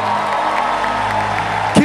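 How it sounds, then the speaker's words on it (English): A church congregation applauds and cheers during a worship service, a dense, continuous wash of clapping and crowd noise filling the space, with a brief louder whoop near the end. "Everybody, please rise and give these people a round of applause from the depth of your heart"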